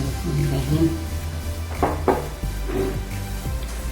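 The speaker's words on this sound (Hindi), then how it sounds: "अच्छी तरह मिक्स कर देंगे।" A spoon scrapes and clanks against a metal pot while sugar is stirred into a mixture, giving a few irregular knocks over a steady low hum.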